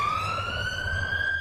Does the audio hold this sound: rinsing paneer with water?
no